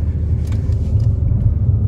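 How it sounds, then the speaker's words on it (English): A Nissan Altima with a fault that stops it accelerating above 25 mph rolls slowly through a U-turn, giving a low, steady engine and road rumble from inside the car. "So I'm doing a U-turn here."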